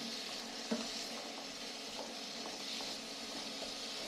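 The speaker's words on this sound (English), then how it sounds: "give your beets a stir, your sweets and beets a stir." Beets and sweet potatoes sizzling in oil in a frying pan, a steady bright hiss with occasional soft scrapes and clicks of a spoon stirring the pieces.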